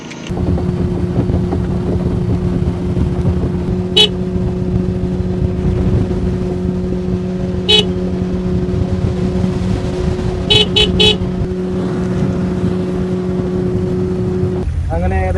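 A fishing boat engine drones steadily throughout, a constant low hum with wind noise, broken by a few short high-pitched beeps or toots.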